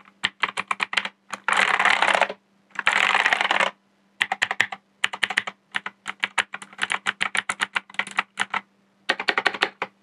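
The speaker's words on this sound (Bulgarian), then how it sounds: "Ето това е звука от клавиатурата" Clicky Razer Green switches on a Razer BlackWidow V4 X keyboard rattle in close, crisp bursts of rapid typing, broken by brief pauses and isolated keystrokes, with no voice.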